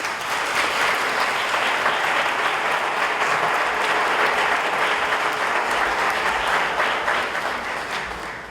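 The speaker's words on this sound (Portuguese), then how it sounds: "Mais uma vez, uma salva de palmas." Audience applause at a Catholic lecture on the Christian family, a dense, even roar of clapping from a sizeable crowd that holds steady for several seconds before easing slightly at the end.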